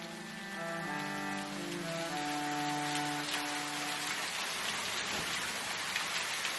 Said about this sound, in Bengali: বাইরে যা বৃষ্টি হচ্ছে